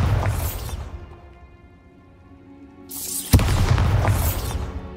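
A Bombarda explosion spell cast in the game Hogwarts Legacy, heard as a roaring burst that fades, then a second whooshing surge with a sharp bang and crackling debris, loud and close, with no talk.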